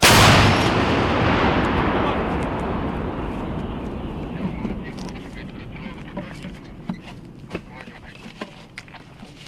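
One powerful D-30 howitzer shot erupts at once, then a long rumbling echo fades steadily through the Serebryansky forest, with faint clicks and taps as it dies away.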